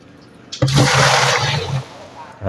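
Water gushing into a container for mixing a calcium boron fertilizer concentrate, a loud splashing pour that starts abruptly and runs steadily for nearly two seconds before tapering off.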